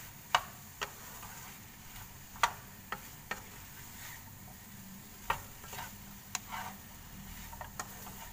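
Luffa gourd stir-fried with chili paste in a pan, heard as a faint low sizzle broken by sharp, scattered spatula taps against the pan.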